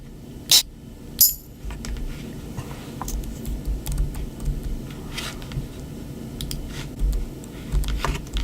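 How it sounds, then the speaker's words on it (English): Keys tapped on a keyboard used as a MIDI controller, making scattered soft clicks and taps with a couple of sharper knocks near the start, close by and with no voices. "It's part of using the keyboard as a MIDI controller, it's always a little funky"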